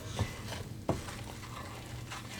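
Spices are stirred into a candy mixture for candied hazelnuts in a pan: quiet, continuous scraping with a faint sizzle and two soft knocks of the spoon against the pan.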